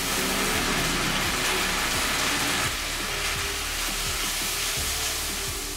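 Water poured onto ginger paste and cumin seeds frying in a pan for a Bengali fish curry, giving a loud, steady, close sizzle and hiss that runs unbroken throughout.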